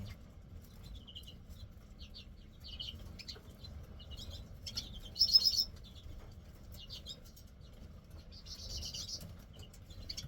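Lesser redpolls chirp in short, high twittering bursts over a low background rumble, with a brief louder flutter midway.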